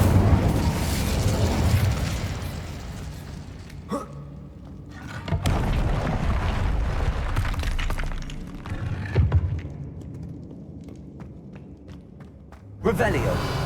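A fire spell cast in the game Hogwarts Legacy: loud, dense bursts of crackling, shattering blasts with deep booms, cutting off sharply at moments and surging back near the end.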